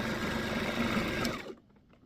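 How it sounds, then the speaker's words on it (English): A sewing machine stitches oven mitt fabric in a fast, steady whir for about a second and a half, then stops abruptly; close and alone. "Now I'll take this over to the sewing machine and I'll stitch down both sides."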